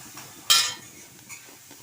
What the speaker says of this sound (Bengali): নাড়াচাড়া করে নিই।